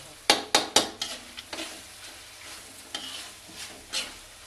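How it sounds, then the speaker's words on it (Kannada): Onions frying in oil for a mutton dish, a soft background sizzle broken by a quick run of three sharp utensil knocks on the pan, then a few lighter scrapes of stirring. "ಎಣ್ಣೆಲಿ ಚೆನ್ನಾಗಿ ಫ್ರೈ ಆಗಬೇಕು."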